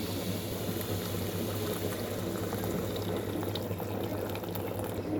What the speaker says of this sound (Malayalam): തിളച്ച വെള്ളം തന്നെ ഇതിലേക്ക് പാർന്ന് കൊടുക്കാം.